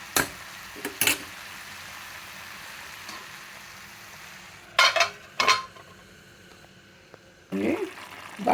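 Brinjal and potato masala curry fries in a pan under a low steady sizzle, broken by a few loud scraping stirs of a spoon against the pan, close and without talk.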